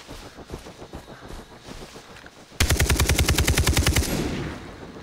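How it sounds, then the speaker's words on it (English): Video game gunfire in Far Cry 3: scattered single shots are followed by a sudden loud, rapid burst of automatic fire that runs steadily for about two seconds, then fades. "How many times do I have to shoot you?"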